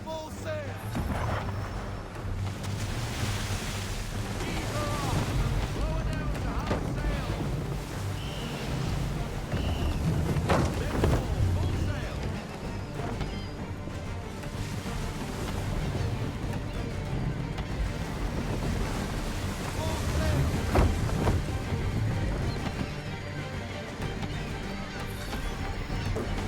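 Sailing ship under full sail at sea in Assassin's Creed III, a steady wash of waves and wind with creaking and distant clatter, while voices talk over it throughout.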